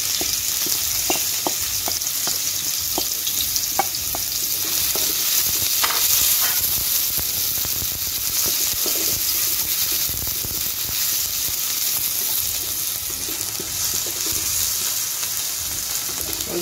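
Chopped onions sizzle steadily in hot butter and oil, a dense continuous frying hiss punctuated by the clicks and scrapes of a spoon stirring the pan, close and fairly loud with no talking.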